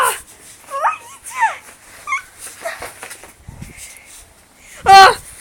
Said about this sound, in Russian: Хорошая охотничья собака.